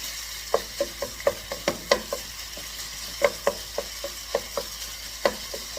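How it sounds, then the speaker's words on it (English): Chicken and vegetables sizzle in a frying pan for a stir-fry while a utensil scrapes and taps the pan in a quick, irregular rhythm, close and clear. "Make sure you hear that sizzle sound, the famous sizzle sound"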